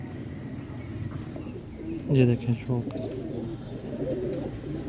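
Pigeons cooing softly nearby, with someone talking over the birds for a moment in the middle.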